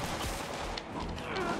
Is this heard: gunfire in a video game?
yes